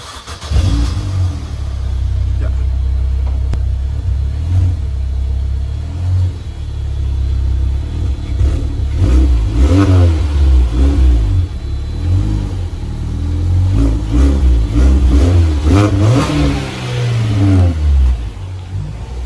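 A classic Mini's engine runs close by with a deep, steady rumble, revving repeatedly in rising and falling surges, loud and alone with no voices over it.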